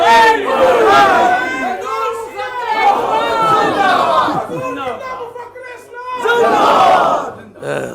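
Crowd at an Islamic religious gathering chanting slogans in unison, loud, rhythmic bursts of massed voices rising and falling in waves across the clip.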